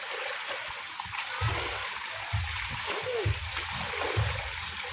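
Children splash and wade through dirty high-tide floodwater on a street in Panginay, Balagtas, Bulacan, with repeated splashing bursts over a steady rushing wash of water and distant voices.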